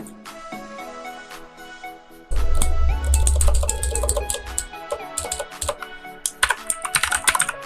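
Fingers tap on a computer keyboard entering a username and password, light keystrokes at first, then a denser stretch of rapid clicky typing with a low hum behind it, close and steady with no talking.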